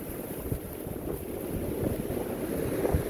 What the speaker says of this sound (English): Oh, waves are coming in. Tide's coming in.